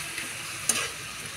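Whole spices and nuts, cinnamon stick, cloves, cardamom pods and cashews, frying in a pan of onions for paneer butter masala, giving a steady soft sizzle with a brief clatter as they are stirred, with no talking.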